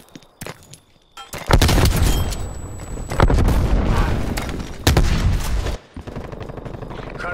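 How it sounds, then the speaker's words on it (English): A frag grenade blast and heavy gunfire in Call of Duty Black Ops Cold War, loud booming bursts and rattling volleys close by, with brief sharp clicks before. "Throwing frag."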